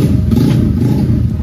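A Honda Beat ESP 150cc motorcycle engine on a dyno rig produces a loud, steady low rumble with slight clatter throughout, close by and without talk.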